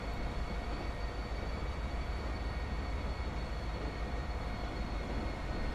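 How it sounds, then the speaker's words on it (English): A French train runs in the video game Transport Fever and makes a steady, faint rail rumble and hum, with a few thin tonal lines above it and no voices. "This French train is not going to be able to pass."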